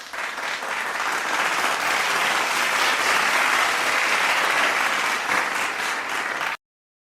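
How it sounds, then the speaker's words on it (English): Steady, dense applause greeting a speaker at an online Asia Pacific gathering, sustained at even loudness for several seconds before cutting off abruptly. "Let's welcome him with our virtual clap."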